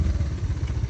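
Motorcycle ridden hard over a rough road on a jungle trip, its engine close and loud with a steady, low, throbbing pulse through the whole second.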